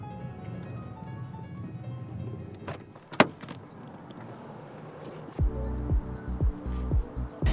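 A car climbing Mulholland Drive in Los Angeles toward a sunset overlook, with a steady low road and engine rumble, a sharp click partway through, and heavier rhythmic thumping bursts near the end; no talk.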